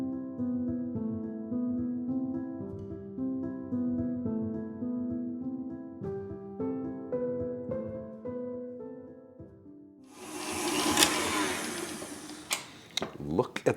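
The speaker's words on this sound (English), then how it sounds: "I'm going to whisk the butter and sugar together until the mixture" A stand mixer's whisk attachment beats butter and sugar, a steady loud whirring rush that starts after a long stretch of tonal sound and runs to the end of the clip.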